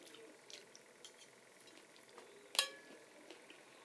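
Beaten egg frying in hot oil for a crispy Thai omelette, a soft steady sizzle with a few light utensil taps and one sharp metallic clack near the end, quiet and close.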